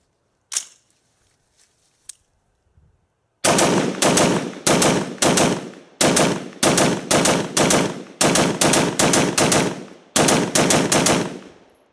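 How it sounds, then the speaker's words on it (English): An AR rifle upper fitted with a Bravo Company KMR KeyMod handguard fires a full magazine dump of rapid, loud, close shots, paced in quick strings with brief gaps. A few faint clicks come before the firing, and no one speaks. "I'd already put a couple hundred rounds through this upper before doing this mag dump"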